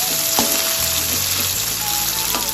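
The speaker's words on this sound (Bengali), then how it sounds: "পেঁয়াজটা হালকা করে ভেজে নিই" Onions lightly frying in refined oil in a pan, a steady broadband sizzle with a few sharp crackles and faint low hums beneath, close and continuous, with no one talking.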